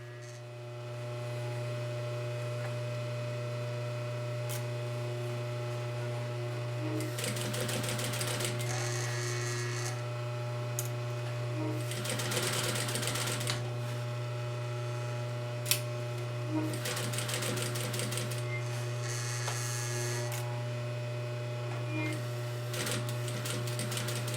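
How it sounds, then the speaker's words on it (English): Sewing machine stitching a pillow closed: a steady motor hum runs throughout, with several rapid chattering bursts of stitching a few seconds long, close up. "keeping my fabric flat and straight on the sewing machine"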